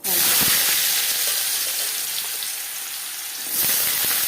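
Diced potatoes fry in hot refined oil in a pan, a loud bright sizzle bursting up at first, then settling to a steady hiss before flaring again near the end, with no talk.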